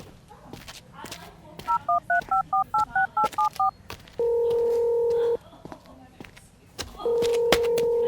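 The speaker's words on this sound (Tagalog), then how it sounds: "tatawagan ko muna si Vincent para ipaalam sa kanya ang nangyari sa'yo" A telephone being dialed to place a call: a quick run of about a dozen keypad tones, then two long steady ringback tones separated by a pause, with speech in the background.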